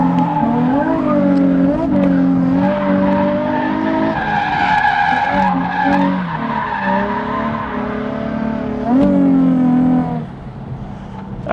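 Completely stock Nissan 350Z drifting with low tire pressure, its engine revving hard and rising and falling in pitch while tires squeal and skid loudly and continuously up close, easing off briefly near the end.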